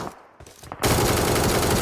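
Loud automatic gunfire from a first-person shooter video game bursts in abruptly after a quiet moment and keeps rattling steadily to the end.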